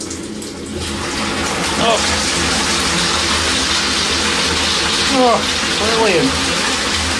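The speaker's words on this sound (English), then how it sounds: "If you want to flush the loo, press that button." A toilet in a combined toilet and wash basin unit flushes with a loud, continuous rushing of water, close by, while someone talks briefly over it.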